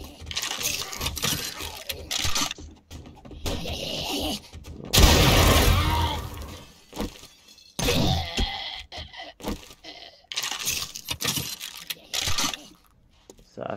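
Weapon fire against zombies in 7 Days to Die, scattered clattering shots and metallic reload clicks in irregular bursts, one longer loud blast midway, with brief pauses between volleys.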